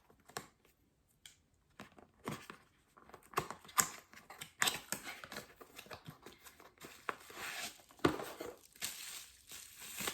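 A small green 300 ml water bottle is unwrapped from its packaging up close, with irregular crinkling, rustling and crackling bursts of plastic and paper that grow busier as the unwrapping goes on.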